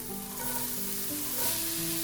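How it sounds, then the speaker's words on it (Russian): Steady, close sizzling of onions frying in a hot pan, a continuous crackling hiss with faint stirring. "Отправляем лук на разогретую сковородку"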